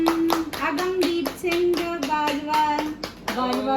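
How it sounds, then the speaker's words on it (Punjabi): A family gathered at home claps together to welcome a baby boy after a cake is cut, giving a brisk, continuous round of close applause with voices and a child's chatter mixed in. "ਤਾੜੀਆਂ ਮਾਰ ਦੋ ਵੈਲਕਮ"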